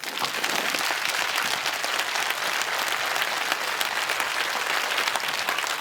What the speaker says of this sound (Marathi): 10 सेकंद दोन्ही हात वर करून जोरदार टाळ्या वाजू द्या